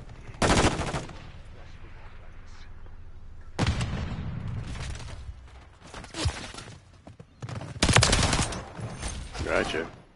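Bursts of rapid video game gunfire crackle in three loud volleys, each fading into a spell of quieter shooter-game ambience and scattered shots between them.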